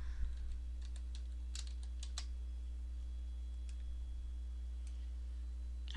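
Typing on a computer keyboard, a sparse run of soft, fairly close key clicks in irregular bursts over a low steady electrical hum.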